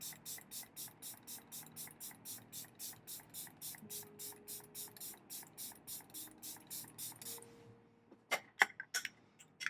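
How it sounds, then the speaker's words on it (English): Repeated short pump bursts of LYS Natural Finish Skin Loyalty setting spray, about two dozen quick hissy puffs in steady rhythm close to the mic, ending with a few louder scattered clicks and knocks. "The LYS Natural Finish Skin Loyalty Setting Spray."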